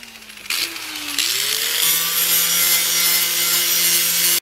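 A power tool sands a metal automotive body panel during a car restoration, a steady loud abrasive whir with a rising pitch as it spins up, running continuously before cutting off abruptly.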